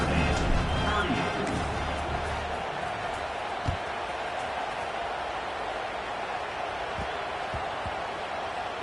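Stadium crowd at a Notre Dame versus USC football game roars after a special teams score, a broad sustained cheer with a louder swell at the start that settles into continuous crowd noise.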